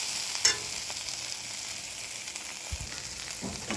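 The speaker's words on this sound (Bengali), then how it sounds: "হলুদটা কষানো ভাজা ভাজা হয়ে গেছে, এরপর আমি একটু হাতে করে শীতে ফোটা জল দেবো এতে" Turmeric sizzles and fries in a pan for a dish of taro stolons with dried fish, a steady crackling hiss broken by a sharp clink near the start and faint stirring scrapes.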